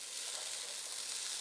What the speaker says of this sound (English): And it's sizzling